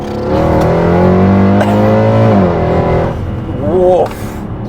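A Mercedes-Benz C63 AMG at night around Lahore, driven hard with traction control off, its engine roaring loudly and climbing in pitch, shifting once and then revving up again close to the cabin while someone talks over it.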